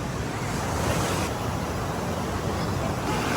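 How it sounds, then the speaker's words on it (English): Ocean waves roll onto the beach at Atlantic City, a continuous loud wash of surf with wind buffeting the microphone throughout. "The waves are good."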